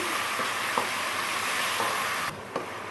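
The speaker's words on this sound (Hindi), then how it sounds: "ऑयल में डालते हैं और इसको थोड़ा सा फ्राई करते हैं।" Steady, dense sizzle of onions frying in hot oil, with a few soft knocks from stirring near the end.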